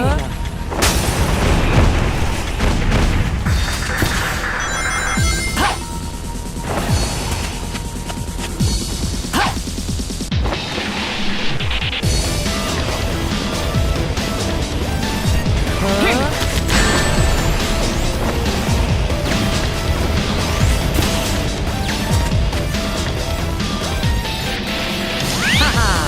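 Heavy, constant game sound from Sonic the Hedgehog (2006) with booming bomb explosions and crashes, dense and loud throughout, with music and effects layered over it.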